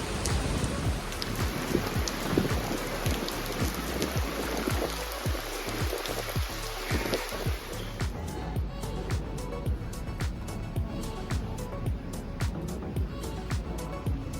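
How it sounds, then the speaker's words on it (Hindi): Heavy rain pours down in Singapore near a port's maritime gallery, a dense continuous hiss with close, crisp drops pattering on surfaces throughout, steady and loud with no one talking. "और अब यहाँ पे बारिश शुरू हो गई और बड़ी ज़बरदस्त बारिश हो रही है"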